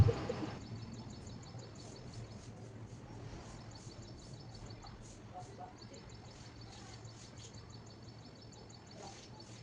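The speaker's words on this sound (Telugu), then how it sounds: "చిన్న చిన్న పిట్టలు, అది భలే సౌండ్ చేస్తున్నాయి." Small birds chirping in trees in the morning, faint repeated tweets scattered over a steady outdoor background, with a person talking at moments.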